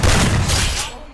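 A shotgun fires in a video game: one loud, close boom with a harsh crackling spread that decays quickly over about a second.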